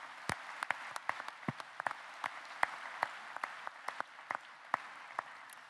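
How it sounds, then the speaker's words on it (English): Scattered, sparse clapping rises from the audience at a company's annual general meeting: distinct individual hand claps ring out at an uneven, unhurried rhythm over a quiet room hum, never building into a thick ovation. "I suggest we give them a big round of applause."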